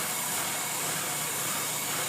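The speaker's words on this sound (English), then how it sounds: "idling up and down, struggling, running like garbage" Ford Freestar engine idling roughly in park, running lean, a loud steady broadband rumble close to the microphone, with no talking.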